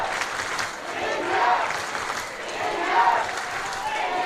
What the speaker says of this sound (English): And you can hear from the crowd, the enthusiasm is growing.